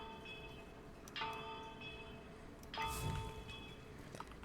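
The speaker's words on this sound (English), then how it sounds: "we're going to hit our bell 3 times" A bell in the ghost-hunting game Phasmophobia struck a few times at uneven intervals, each strike ringing out bright and then fading over a hiss of rain-like background noise, with no talking.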